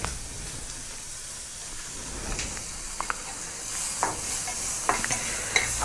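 Muri stir-fried with chillies in a pan, a steady crackling hiss broken by scraping strokes of the spatula, close up and growing busier toward the end, no voices.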